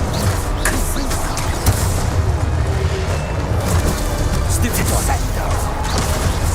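Confringo explosive blast spell cast in the Hogwarts Legacy video game, dense booming bursts and crashing impacts layered continuously over loud battle noise with a low rumbling bed throughout.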